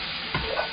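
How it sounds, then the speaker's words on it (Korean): Ingredients with pepper stir-fried in a pan for Chinese spring rolls, giving a soft, steady sizzle with a brief scrape of stirring partway through. "자, 후추 넣고 살짝만 볶으시고요."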